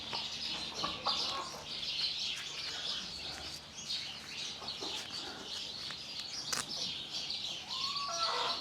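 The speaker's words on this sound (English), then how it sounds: "We got a lot of little volunteer birds here in the barn. They make quite a racket." Many small birds chirping inside a barn, a busy overlapping chorus of high tweets and calls, with some clucking fowl heard among them.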